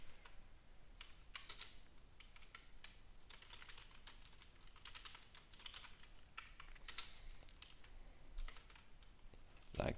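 Steady typing on a computer keyboard while writing a Python class, with irregular bursts of key clicks that run throughout, fairly close and quiet, with no voice over them.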